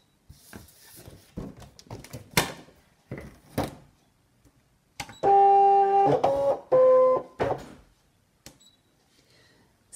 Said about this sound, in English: I'm going to try and scan this through the ScanNCut and make a cutting file for it